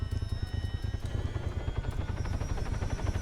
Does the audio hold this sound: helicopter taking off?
yes